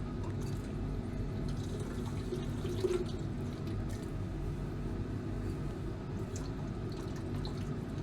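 Tap water running steadily while silver chloride is rinsed, a continuous watery wash with faint drips, close and even throughout.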